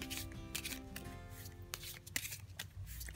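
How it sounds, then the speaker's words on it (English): A deck of tarot cards is riffled and shuffled by hand, a rapid series of crisp papery flutters and taps, close and continuous with no talking. "Shuffle the cards."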